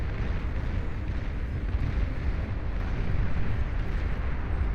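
Shiva siege mech missiles detonating in the Beyond All Reason strategy game, a continuous rumbling wash of overlapping explosions at steady loudness with no pauses.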